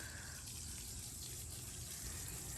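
Water gushes steadily from a borewell tap, a broad, continuous rushing splash that holds level throughout, close by and with no voices over it.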